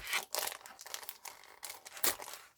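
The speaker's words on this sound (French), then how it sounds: "si je le déballe, ça va faire un bruit d'enfer" Aladine foam stamp set packaging is unwrapped nearby, a loud crinkling and crackling of plastic in quick irregular bursts with no talk.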